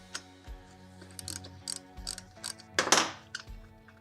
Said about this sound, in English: I'm going to take my 14mm socket and back both of these out